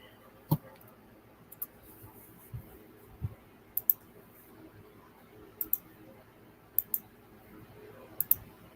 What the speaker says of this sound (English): You guys can hear my clicking